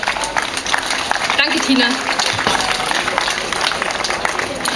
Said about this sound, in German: Einen herzlichen Applaus für Caroline und ihre Rede.